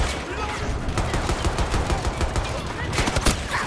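A video game weapon set to single fire cracks off a rapid, steady run of close, loud shots over a busy background of game noise, with some talking.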